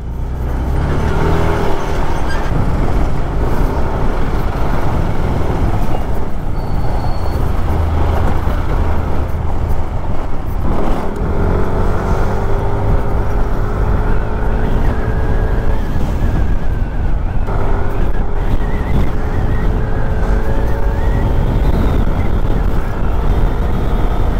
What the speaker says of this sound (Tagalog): Kaya nangyayari dito napupunta lahat ng mga sasakyan, dito sila umiikot, lalo yung mga malalaking truck.